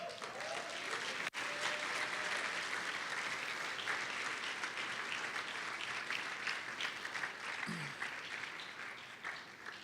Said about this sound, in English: Everybody give Dave a round of applause.